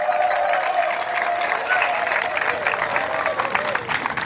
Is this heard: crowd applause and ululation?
yes